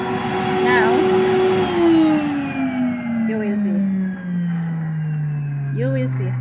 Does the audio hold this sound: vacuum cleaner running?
yes